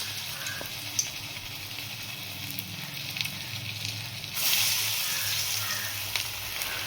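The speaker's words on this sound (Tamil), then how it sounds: "அப்புறமா எண்ணெய் சூடாகிடுச்சு. நம்ம வடை போடலாம்." Kalla vadai frying in hot oil, a steady soft sizzle and bubbling that swells noticeably louder partway through, continuous and close with no talking.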